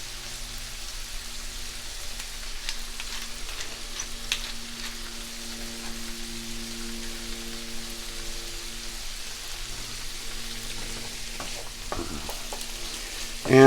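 Apples and raisins seasoned with salt and pepper cook in a pan for compote, a low, even sizzle under a faint steady hum, with scattered soft pops and a brief louder burst at the end.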